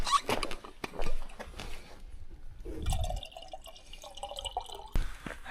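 Drinking water splashes and drips from a tap at an outdoor spot in Oman, close and uneven with scattered clinks and trickles, no talk.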